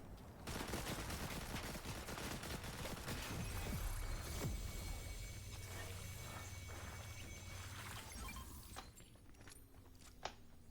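Gunfire in a Fortnite-style battle royale game, with a double pump shotgun setup: dense, loud bursts of repeated shots and impacts continue almost without a break, and footsteps and clatter mix in near the end.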